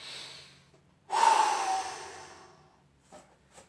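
A deep, audible breath during a posture and strength fitness session: a loud, close exhalation swelling then fading over a couple of seconds, with a fainter breath before and after.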